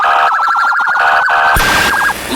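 An emergency vehicle siren wails loud and close in a rapid rising-and-falling yelp, then shifts to a steady tone before the yelp returns, with no voices present.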